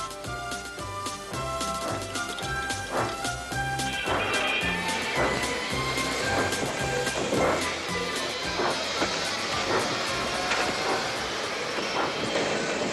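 Two steam engines puffing hard, hauling a tank engine back onto the rails after a crash, a dense, loud, continuous rumble with rhythmic chuffs and clanks and a hissing wash over the top.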